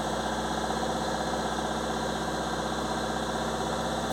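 Fiat Ducato van diesel engine idling from cold, a steady, even low rumble with a faint rhythmic knock, close and continuous, no voices.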